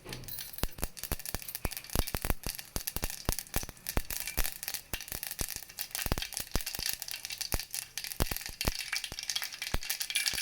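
Mustard seeds frying in hot oil in a pan for a Dhantinsoppina Massoppu dish, a dense stream of sharp crackling pops and spatters at quiet to moderate level, alone without talk.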